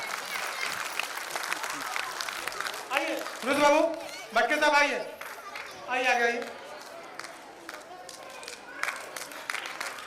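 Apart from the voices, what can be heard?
audience applause welcoming guests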